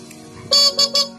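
A car horn honks three times in quick succession, short loud blasts close by after a moment of quiet.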